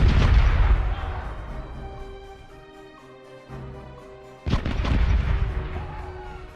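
Ship cannons in the pirate game Corsairs Legacy fire with a heavy boom that fades into a long rumble, and a second loud blast follows near the end over a low steady hum.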